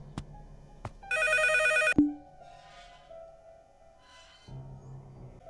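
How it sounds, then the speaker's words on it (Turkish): A synthetic telephone ring in the horror video game Endless Nightmare bursts out for about a second amid sparse clicks and hums, followed by a sharp thud and quiet electronic tones. "Telefon çalıyor"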